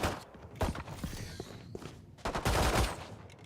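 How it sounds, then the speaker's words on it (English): Gunshots in a video game esports match: bursts of rapid gunfire in two clusters with mechanical clicks and creaks between them, loud and close, with no talking. "we do have some gunshots going off"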